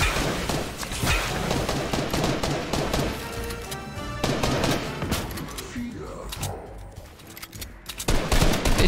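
Rapid bursts of gunfire in a Fortnite match rattle on nearly continuously, loud and close, while a player talks over the shooting.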